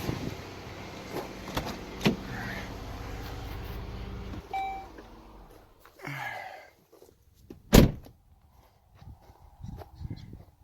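A 1987 Chevy Monte Carlo SS 454 idling steadily in a garage, then the engine cutting off abruptly, followed by quiet with a sharp metallic clunk and scattered small handling noises.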